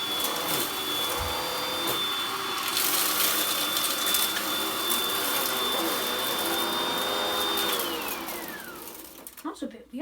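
A vacuum cleaner called Goblin whizzes on a cold start, a loud steady whine holding its pitch, then sliding downward as it winds off. Voices talk over the motor noise.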